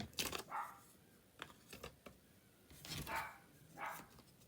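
Marley, a pet dog, barks several times in short separate bursts, softly and from some distance, as if from outside, with faint clicks in between.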